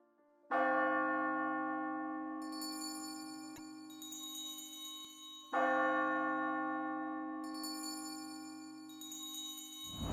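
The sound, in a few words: bell ringing several times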